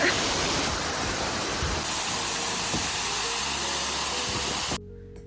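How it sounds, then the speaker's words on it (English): A waterfall at Castle Hill in Nice roars as a loud, steady broadband rush of falling water close by, cutting off abruptly at the end. "We're at this waterfall here."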